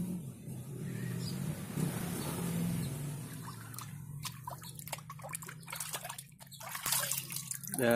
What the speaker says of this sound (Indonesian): Untuk celupnya kita miring aja seperti ini, jangan langsung gini, jadi seperti ini, perlahan.